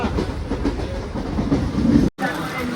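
Train wagons rumble steadily along rails with faint rhythmic clatter, heard from on board and broken by a brief dropout near the end.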